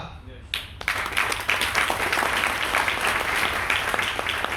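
Audience applause at a motivational talk, a dense, steady wash of many hands clapping that swells in after a brief quieter moment and keeps going at a fairly loud, even level.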